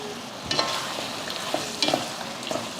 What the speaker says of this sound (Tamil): இப்போ நம்ம வறுத்து எடுத்த பன்னீரை இதில் சேர்த்து விட்ருவோம்